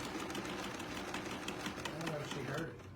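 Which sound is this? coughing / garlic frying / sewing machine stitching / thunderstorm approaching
sewing machine stitching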